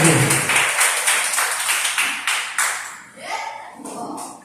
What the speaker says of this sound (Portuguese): Aplauda Jesus aí com alegria